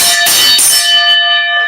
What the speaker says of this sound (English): Gotta hit that bell to ensure that it's speaking, folks.